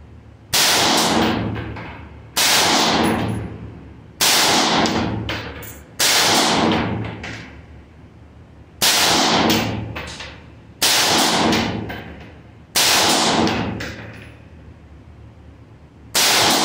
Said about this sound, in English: we're going to be shooting that out of a 20-inch barrel